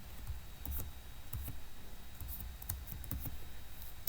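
Light keystrokes on a computer keyboard while typing a header in a word processor, a few sparse irregular taps over a quiet background hiss.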